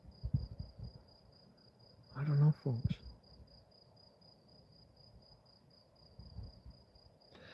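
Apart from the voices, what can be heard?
crickets chirping after dark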